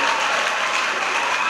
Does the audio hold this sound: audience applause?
yes